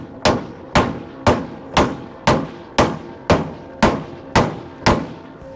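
Ten evenly spaced hammer blows strike a stuck part in a steady beat, each a loud, sharp metallic bang heard close.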